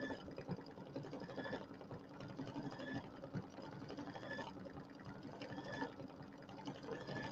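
An embroidery machine stitching gyrating motif stitches for a bench pillow runs steadily with a dense, continuous mechanical whir and rapid needle clatter, close and unbroken throughout.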